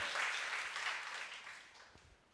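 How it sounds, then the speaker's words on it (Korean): Congregation applauding during a Sunday church service, a soft, diffuse patter of many hands that gradually thins and fades over a couple of seconds. "하나님 앞에 영광의 박수를 올려드리겠습니다"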